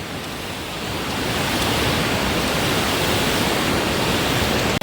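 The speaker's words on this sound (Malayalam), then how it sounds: "വെള്ളച്ചാട്ടം ഭയങ്കര താഴെ വെള്ളം ഒഴുകുന്നുണ്ട്" A waterfall pours with water flowing far below, a steady, loud, unbroken rushing roar that holds constant from start to finish.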